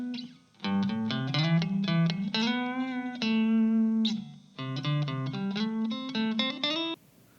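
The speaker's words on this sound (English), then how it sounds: "you also have a reverb, so there is room," A guitar played through a Blackstar ID:Core V3 amp with its room reverb engaged, bright picked phrases and a sustained chord, each note trailing a short ambience before the playing stops.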